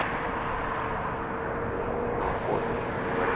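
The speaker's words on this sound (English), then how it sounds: "Another Embraer Phenom 300 coming in from Austin," Distant Embraer Phenom 300 business jet arriving into Las Vegas, a steady broadband jet roar that holds evenly throughout with no talk over it.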